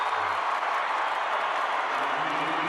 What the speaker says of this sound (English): And the crowd at the DHL Stadium finds its voice